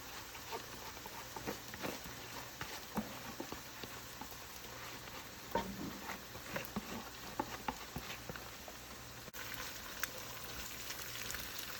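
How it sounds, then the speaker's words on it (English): Garam masala paste fries steadily in a pan after ginger garlic paste, giving a soft continuous crackle and patter with scattered sharper pops, moderately close and without talk. "We'll fry garam masala about 2 to 3 minutes."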